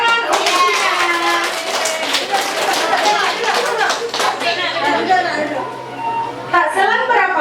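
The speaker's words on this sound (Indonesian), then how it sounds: "Hore, tepuk tangan untuknya." Children clap at a kindergarten performance, a steady patter of small hands running under loud, overlapping kids' voices and chatter.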